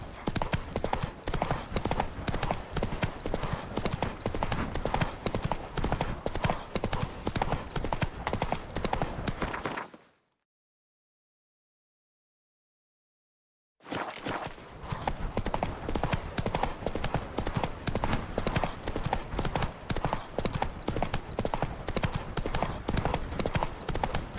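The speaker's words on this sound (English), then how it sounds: "Giddy up." Horse galloping in The Witcher 3: Blood and Wine, a dense, loud, continuous clip-clop of hooves broken by a few seconds of total silence midway, with a brief whinny.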